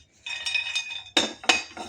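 Cashews tipped into a metal cooking pot for roasting, producing a short rattling patter of nuts followed by two sharp clinks against the vessel, close and quiet.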